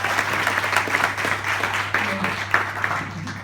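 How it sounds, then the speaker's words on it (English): Audience applause for a man called up on stage, a few seconds of scattered, fairly loud clapping over a low steady hum, with faint crowd murmur mixed in. "Give him a round of applause, people."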